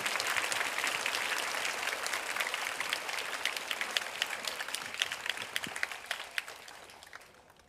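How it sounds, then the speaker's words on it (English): An audience in a school hall at an educational talk claps to welcome a speaker onto the stage, sustained applause from a crowd that gradually thins into scattered claps and fades out. "let's welcome Mr. Leung onto the stage with a big round of applause"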